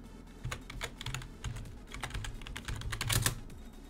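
Rapid keystrokes on a computer keyboard while entering a site name in a browser tab, a steady run of close, crisp clicks with a slightly louder burst near the end and no voices.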